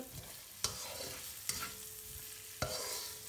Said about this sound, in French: Je vais remuer pour pas que ça crame.